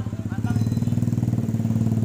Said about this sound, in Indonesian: Knalpotnya racing ya.